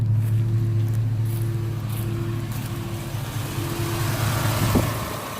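Electric radiator fans on a 2004 Chevrolet Suburban running at low speed, a steady droning hum with constant tone, heard up close outdoors with no talking.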